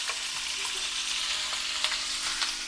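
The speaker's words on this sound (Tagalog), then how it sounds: "magpiprito na tayo ng ating spam" Spam sizzles and crackles steadily in a hot pan, with occasional sharper pops over a continuous hiss.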